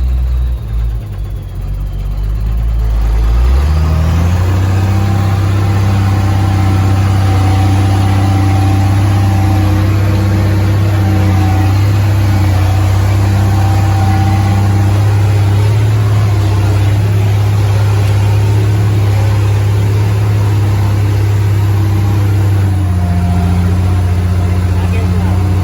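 A Big Red tractor's engine strains hard under load while hauling logs in the cold, a loud sustained drone that rises after a few seconds and holds steady, with wheels spinning.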